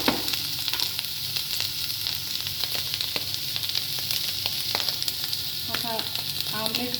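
Food frying in a pan for a breakfast dish, a constant crackling sizzle with scattered pops and the scrape of a spatula stirring nearby.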